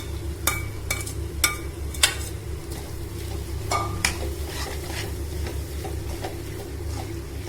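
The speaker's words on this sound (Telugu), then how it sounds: "ఈ రొయ్యలు వేసిన తర్వాత 20 నిమిషాల వరకు వేయించుకోవాల్సి వస్తుంది" Prawns frying with curry leaves and masala in a pan, Andhra style, a steady low sizzle with several sharp spatula taps and scrapes against the pan.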